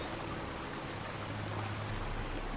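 Steady rushing of water pouring from a sewer pipe in the video game Indiana Jones and the Great Circle, a continuous broadband wash with a low hum beneath, constant in level throughout.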